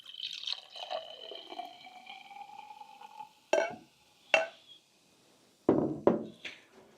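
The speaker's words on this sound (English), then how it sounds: "So I'm going to pour 12 ounces of beer, the size of American, in this German beer glass" Beer is poured into a German beer glass, a thin liquid stream trickling and fizzing at first, followed by a few sharp knocks and clinks of glass near the end.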